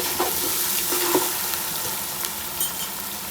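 Masala with ginger, green chili, salt and crushed chili fries in a pot, a steady sizzle broken by scraping stirs and light clinks, close and fairly loud, without any talking.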